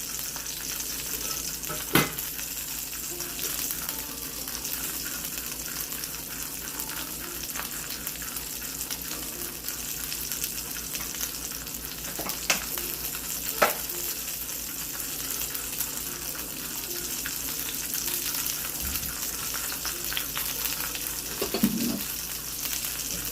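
Fish with skin frying in a hot pan, sizzling steadily and crisply up close with a constant spattering hiss, broken by a few sharp pops and splatters, with no voices.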